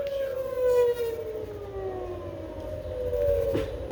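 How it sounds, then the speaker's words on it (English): Saudi missile warning siren used as an emergency alert, a loud, wavering electronic tone with a slowly sliding pitch that holds steady and sounds alone throughout. "This is their missile siren."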